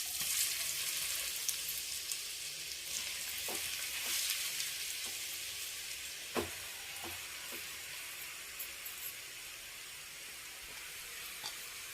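Ash gourd pieces fry in two spoons of ghee for halwa, giving a continuous soft sizzle with scattered spoon scrapes and small taps throughout.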